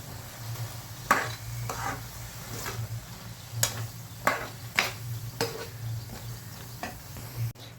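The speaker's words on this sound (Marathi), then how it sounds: "आता त्यामध्ये बटाटे टाकून देऊ कट केलेले आणि ते देखील छान फ्राय करून घेऊयात." Cut potatoes frying in a pan for a peas-and-potato sabzi, with a quiet background sizzle and a series of sharp spatula scrapes and clinks against the pan at irregular intervals.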